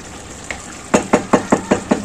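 A spatula stirs catla fish head muri ghonto in a frying pan, knocking loudly against the pan in a quick, even run of about six strokes after one softer tap.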